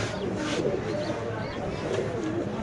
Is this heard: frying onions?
no